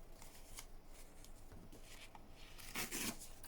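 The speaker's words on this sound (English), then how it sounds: "This is going to tear, we want to tear a straight line at the right angle" Paper is torn along a straight line at a right angle while making a junk journal, heard as a few close, quiet ripping and rustling bursts, with a louder tear near the end.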